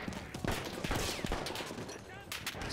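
Rapid gunfire in the Battlefield 1 shooter game, a crackling fusillade of overlapping shots near and far, with a voice talking under the shooting.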